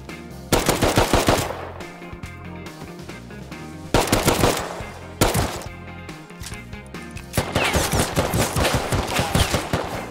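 Automatic M9 rifle fire in the survival game Rust, loud and close, in several sustained rapid bursts separated by brief pauses, with no talking.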